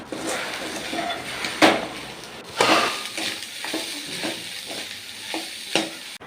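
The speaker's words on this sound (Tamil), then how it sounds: "இப்போ எல்லாமே சேர்த்து அப்படியே கிளறி விட்டுட்டுருங்க." A spoon or spatula stirs fried rice with spices in a hot pan, giving a steady sizzle with scraping clinks and a few sharper knocks against the pan, close up and with no talking.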